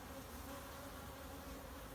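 Honey bees swarm busily at the front of a hive among apple trees, a dense, steady buzzing drone that fills the air continuously and up close.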